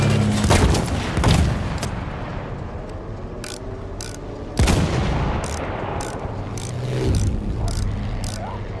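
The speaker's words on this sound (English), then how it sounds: "That's an enemy machine gun!" An enemy machine gun firing in a video game, a few heavy bursts followed by a sparse rhythm of sharp mechanical clacks and single shots, loud and close, with voices speaking in between.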